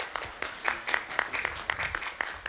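A student audience clapping at a stage show, with sharp, evenly spaced claps forming a steady rhythmic beat.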